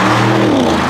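A McLaren supercar's engine revs hard right after a keyless start, a loud, close, steady throaty roar with no talk over it.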